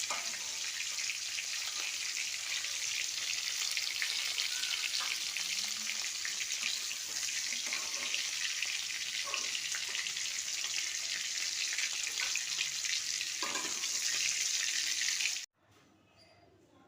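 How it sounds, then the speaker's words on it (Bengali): Prawns fry in hot oil with salt and turmeric, a steady bright sizzle with soft stirring that runs close and continuous before stopping abruptly near the end. "নুন হলুদ দিয়ে আমি একটু ভেজে নিলাম।"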